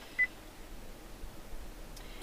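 A Ford Flex Titanium's Sync system gives one short, faint electronic beep as the phone button is pressed, heard against a low, steady cabin hum with no talking.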